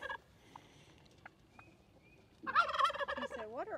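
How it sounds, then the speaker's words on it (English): In a field, a wild turkey gobbles in a rapid rattling burst, fairly close, after a quiet stretch with a few faint bird chirps. "there was a wild turkey in the field"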